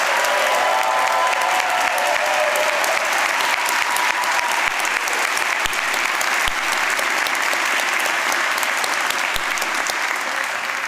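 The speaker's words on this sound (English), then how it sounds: "Can we give everybody a big, massive round of applause and a big cheer for all their achievements?" Audience applause and cheering at a City Education Group graduation ceremony: dense, sustained clapping from a large crowd that fills the hall at an even, loud level for the whole stretch, with scattered cheers mixed in.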